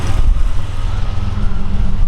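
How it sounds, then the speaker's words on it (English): A 1987 Buick Grand National with a 3.8-liter turbo V6 and original exhaust idles close by, a steady low rumble holding even throughout. "We'll get back and let you hear the exhaust."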